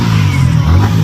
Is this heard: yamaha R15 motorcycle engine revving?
yes